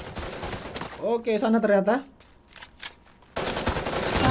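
Rapid automatic gunfire in a battle royale video game rattles at the start and again near the end, fairly loud, with a voice talking in between.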